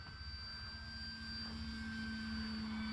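An E-Flite Commander MPD radio-controlled airplane on 3s power flies into the wind, its electric motor giving a steady, faint, high-pitched whine from a distance, with no voices.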